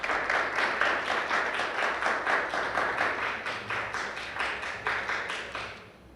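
Audience applause at a national debate competition final, a steady rhythmic patter of many hands clapping together, sustained and moderately loud before fading out at the end.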